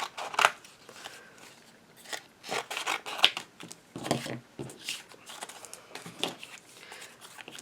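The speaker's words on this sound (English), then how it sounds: "I'm going to go ahead and cut these out." Scissors snip through paper cut-out shapes in quick, irregular bursts of close, crisp cuts, with brief pauses and light paper rustling between them.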